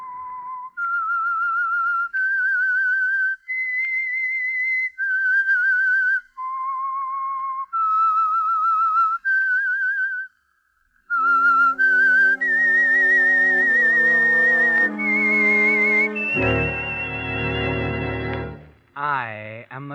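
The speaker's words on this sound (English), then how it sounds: "That whistle is your signal for the Signal Oil Program" A clear, solo whistled melody plays the theme of The Whistler radio show, a run of distinct sustained notes that later swells into a full orchestral passage before ending.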